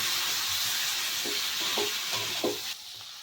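Spices with turmeric and a splash of water sautéing in a pan for a vegetarian jackfruit curry, a dense steady hiss with a few soft scrapes of stirring, close and continuous, tapering slightly at the end.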